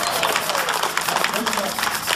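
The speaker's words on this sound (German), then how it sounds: "das ist ein Applaus wert." An audience gives steady applause, a dense, even wash of clapping lasting the whole short stretch with voices faintly mixed in.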